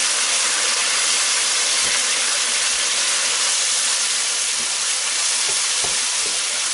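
Tomato passata frying down in a lamb chop curry pan, a loud, dense, unbroken sizzle and hiss of evaporating liquid with faint stirring knocks, close up and without talk.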